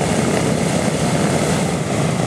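A loud, steady drone of a B-17 bomber's radial piston engine running continuously, a dense roaring rumble with no pauses.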